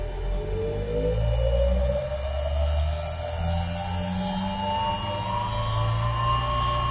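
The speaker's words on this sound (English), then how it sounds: "let's start the motor again and keep our eye on the current" A three-phase CNC spindle motor, run from a single-phase supply, starts and spins up, a rising whine sweeping upward over a steady low electrical hum, close and continuous with no speech.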